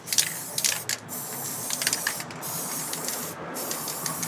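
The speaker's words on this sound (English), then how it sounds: "I'll spray above everything to get it going." A steady hiss of spray paint from an aerosol can, continuous with a few brief clicks and pauses.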